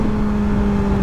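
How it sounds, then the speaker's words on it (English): A Ram pickup truck goes by with a steady low engine hum and rumble, close and continuous through the short moment, no voices. "Oh, it's a Ram. Ram truck."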